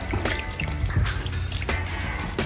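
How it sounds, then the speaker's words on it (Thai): Cold water trickles and splashes over freshly blanched bok choy, a close, steady pouring and dripping sound with small irregular splashes and no voices. "มาใส่น้ำเย็นนะครับ"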